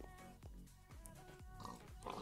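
A pig in the Minecraft game Sky Factory 4 on a pig farm grunts and oinks in a quick series of short calls, soft and close, with no other sounds around it.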